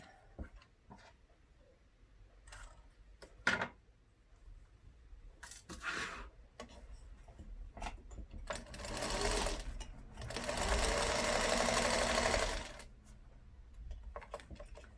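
A sewing machine stitches fabric pieces for a collage hat, running in short bursts and then one longer steady whir, with pauses and small clicks between runs.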